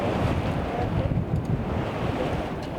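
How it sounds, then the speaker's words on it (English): Small sea waves washing around a sailing boat in protected trade-wind waters, a continuous close rush of water and surf mixed with heavy wind buffeting, no voices. "Yet even these small waves can be a lot for the uninitiated."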